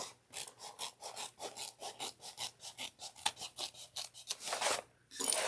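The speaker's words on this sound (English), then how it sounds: "So we're going to trim this down to 1/8 of an inch too." Scissors trim fabric for a bucket bag with a quick, even series of close, crisp snips. The cuts come in a regular rhythm, with a faint hum underneath and a brief rustle of material at the end.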